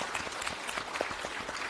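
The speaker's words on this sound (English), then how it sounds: "I think that needs an applause." Applause at a conference on global growth, a faint, steady patter of many hands clapping at a distance.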